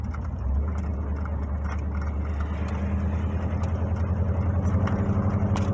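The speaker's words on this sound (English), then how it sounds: "Gotta love the mail trucks." A mail truck rumbles past at close range, its steady low engine drone holding throughout with a faint rattle, alone without talk.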